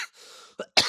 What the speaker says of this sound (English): even though I cough a little bit here and there